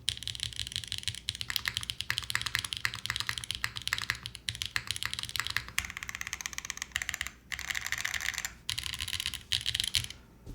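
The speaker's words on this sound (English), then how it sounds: "Even with the 80 durometer, this still doesn't feel like super, super tough to type on." Rapid, close typing clatters on a Vantage mechanical keyboard fitted with 80 durometer gaskets and a keycap set: dense bursts of crisp keystrokes with brief pauses between runs and no voice.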